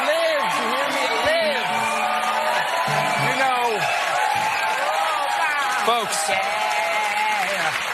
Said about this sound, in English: there's the cheering crowd loving the idea that Obamacare lives